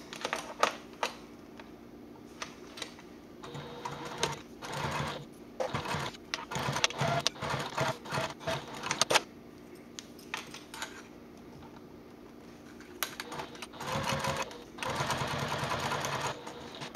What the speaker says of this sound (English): we're going to top stitch at 1/8 of an inch seam allowance along first the open side here and then the other side